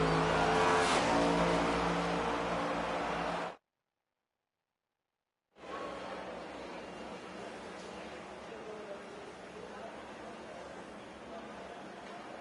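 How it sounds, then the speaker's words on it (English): NASCAR race car engines roaring in a racing video game on a 1.5-mile track, a dense continuous engine roar with revving, broken by a two-second silence before resuming, with talk over it. "Get ready to feel the thunder of Nascar and engines roar to life."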